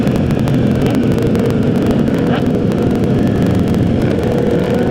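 A Harley motorcycle doing a wheelie during a massive group ride, heard as loud, continuous engine roar mixed with heavy wind buffeting on the microphone, steady throughout with no voices.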